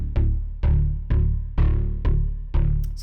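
A looping pulse of deep, pitched impact hits, tempo-synced and tuned around the note D, repeating at a steady tempo, each decaying before the next strikes, ending with a faint metallic shimmer.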